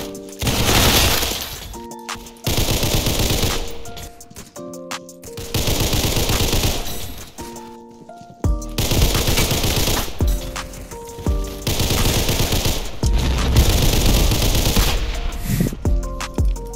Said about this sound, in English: I was shooting at them.